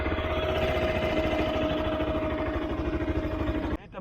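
A Bajaj Pulsar RS200 motorcycle idles close by, a steady low rumbling pulse with a constant whine, cutting off abruptly near the end.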